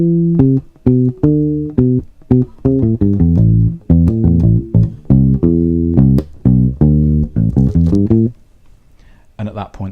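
An electric bass guitar runs through a four-bar lick of short, punchy plucked notes in a quick, bouncing rhythm, loud and close, ending with a brief pause and a few faint trailing notes.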